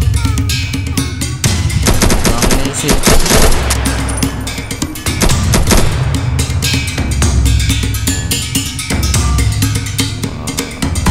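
Rapid gunfire bursts in a Minecraft game, sustained and loud across the whole stretch with booming shots layered over each other; a voice speaks faintly underneath.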